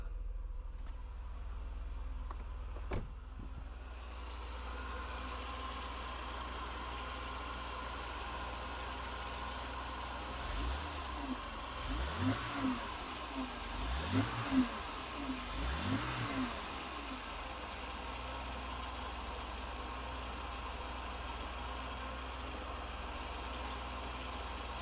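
A Mercedes W124 with the M103 engine idles steadily, close and broadband, then revs up in several swelling blips midway before settling back to a smooth idle, with no talking.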